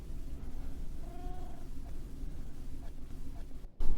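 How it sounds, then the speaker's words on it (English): A cat in the Minecraft game gives a single brief, faint meow over a low background hum, followed near the end by a sudden dull thump. "I have a little guard cat for creepers"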